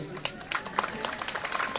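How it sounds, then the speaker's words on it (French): Supporters at a petanque precision-shooting tournament in Millau clap to encourage a player: scattered, fairly sharp claps under nearby talk and crowd murmur. "Est-ce que les supporters de Monsieur Le Boursicot vont l'applaudir et l'encourager?"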